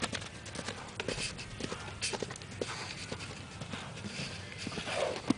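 Steady clip-clop of horse hooves moving over ground, a continuous rhythmic patter with soft background noise.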